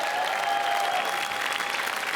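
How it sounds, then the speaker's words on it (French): Applause from a festival audience inside the Cannes Film Festival theatre at the 2016 Hands of Stone screening, steady and dense clapping filling the room throughout with no voices on top. "vous pouvez les applaudir"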